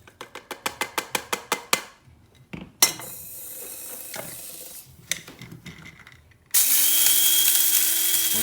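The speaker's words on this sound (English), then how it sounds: "Coriander seeds take into our spice grinder." An electric spice grinder runs on toasted coriander seeds. Rapid clicking ratchet-like taps and handling clatter come first, then a loud, steady whirring grind kicks in close and continues to the end.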